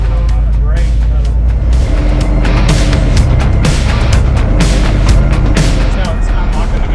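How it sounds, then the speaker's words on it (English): A car with a 700R4 automatic transmission runs loud and close while its torque converter locks and unlocks, a steady heavy engine drone with a few thumps and a voice talking over it. "it's unlocking the converter, locking it up"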